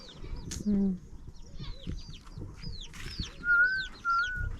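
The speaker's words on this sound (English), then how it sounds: "This is a chicken coop." Chickens cluck near a chicken coop in short, moderately close calls scattered through the moment, with a person talking softly in the background.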